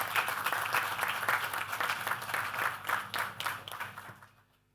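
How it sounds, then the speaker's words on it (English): Applause for the Minister for Public Works and Public Utilities at a ground breaking ceremony for the Loubiere to Bagatelle road, a steady crowd of clapping hands that carries on evenly and then fades out near the end. "Let us give another round of applause to the Minister for Public Works and the Public Utilities and his team"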